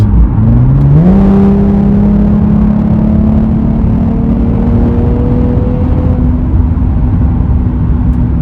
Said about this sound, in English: The car has a decent sound. Although when you're really caning it, it feels a little harsh.